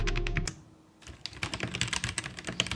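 Typing on a Kreo Hive 65 mechanical keyboard with purple linear switches, a few quick clacks, a short pause, then a close, rapid run of keystrokes.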